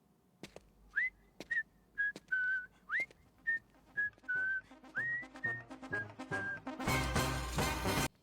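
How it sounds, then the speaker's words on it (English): A person whistles a theme song, a clear short melody of about a dozen distinct notes with slight upward slides, fairly close, before a louder burst of noise takes over at the end. "Was he literally whistling the theme song?"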